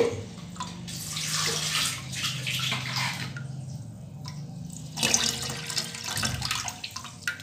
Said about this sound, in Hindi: अभी इसके अंदर पानी का ये तीसरा जग हम डाल रहे हैं पानी का